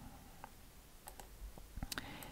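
A few sharp mouse clicks in CorelDraw, faint and close, come alone in a quiet room with a couple of light clicks in quick succession near the end.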